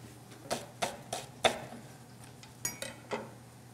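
Knife chopping onion on a cutting board for a chunky mezze salad, seven or so quiet, separate knocks spaced unevenly, close by and soft against a low background hum.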